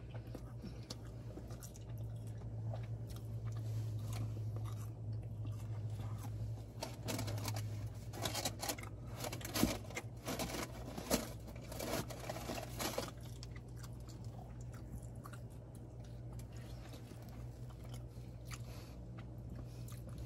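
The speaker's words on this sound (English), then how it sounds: "I know you guys like it when I eat with my mouth open." Someone chews lava cake with an open mouth, producing close, wet smacking and squelching bites that come in irregular bursts over a faint background hum.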